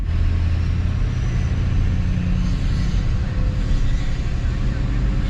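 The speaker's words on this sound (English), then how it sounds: "It sounds so good. Hear the turbo?" An LBZ Duramax diesel pickup engine with a turbo runs steadily nearby, giving a loud, continuous low rumble with a faint airy hiss above it and no pauses.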